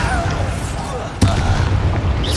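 Bombarda blasting spell in Hogwarts Legacy, a sharp loud blast midway through that jumps out over an ongoing rumbling battle din, then a heavy low roar after it.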